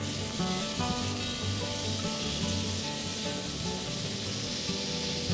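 Spices and tomato fry in a pan, giving a continuous, fairly even sizzling hiss with faint stirring movement underneath, heard without any talking.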